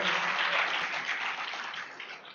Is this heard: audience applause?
yes